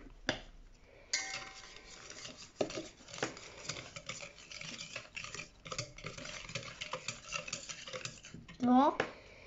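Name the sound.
stirring chocolate banana cake batter in a bowl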